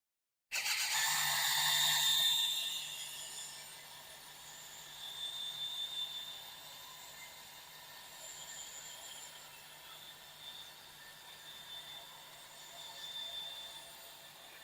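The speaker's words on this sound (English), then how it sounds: "you just hit the open button and the shade will activate and come out" Motorized shade on a 2026 Airstream Stetson 6666 travel trailer extending: a steady, close mechanical whir with a faint low hum, louder at the start and then holding even for about fourteen seconds.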